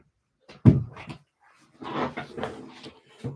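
A pet dog at the door as it is let into the house, with a few soft snuffs, whimpers and movement close by in a quiet room.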